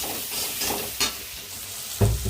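Eggs frying and being stirred in a pan with salt for egg fried rice: a steady close sizzle with distinct scraping stir strokes about once a second.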